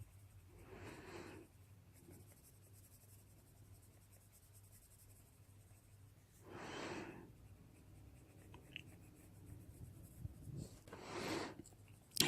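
Polychromos colored pencil shading on paper, three distinct bursts of scratchy scribbling, close and fairly quiet, separated by near-silent pauses.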